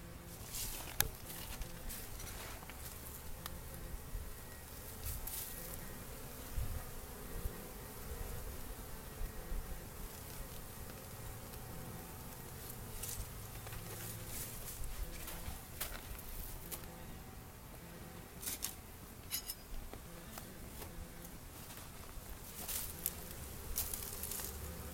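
Honeybees buzzing around a beehive entrance, a faint steady drone of many insects with occasional louder passes of single bees flying close by, outdoors.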